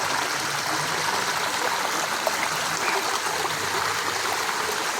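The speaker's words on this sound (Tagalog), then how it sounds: "so ito yung bukal nila rito" Water from a natural spring at Camp Caytolari flows in a steady, close, full-bodied rush, with a constant broadband hiss and no pauses or voices.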